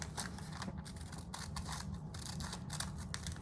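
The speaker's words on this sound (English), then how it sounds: "grab those paper scissors and cut out sort of a rough cut around these pieces" Paper scissors rough-cutting around wool appliqué pieces for a Christmas quilt, a steady series of soft close snips and paper rustles, quiet and unaccompanied by speech.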